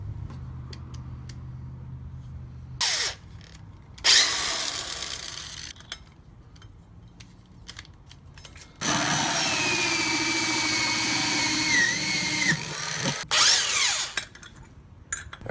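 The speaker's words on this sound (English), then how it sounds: "we're going to want to now drill in our 3-inch hole" A power drill with a 3-inch hole saw cuts into the plastic of a 5-gallon bucket in several loud bursts, short at first, then a long grinding run with a whining pitch, separated by quiet pauses.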